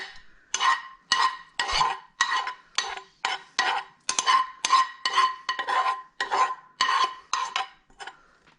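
A fork mixing caramelized onions into a courgette stuffing in a bowl: about fourteen regular scraping strokes, each a short clinking rasp, close and clear with no talking.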